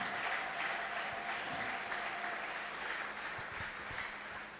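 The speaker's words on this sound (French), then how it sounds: "Est-ce que nous pouvons applaudir pour Maman Fanny?" A church congregation applauds during a sermon, a broad, even roar of clapping from a large room that fades a little toward the end, with faint voices beneath.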